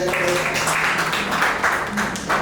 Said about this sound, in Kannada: ಒಂದ್ಸತಿ ಜೋರಾದ ಚಪ್ಪಾಳೆ ನಿಮ್ಮೆಲ್ಲರ